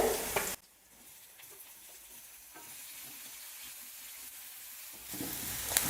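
Chopped onion sizzles and hisses steadily in a hot pan of oil while a breakfast side dish is cooked, a bright burst at the start settling into an even, close crackle with no talk.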